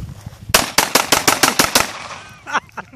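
Gunshots fired outdoors, a rapid close burst of about eight sharp cracks in quick succession, then a pause and a few more scattered shots, loud and alone.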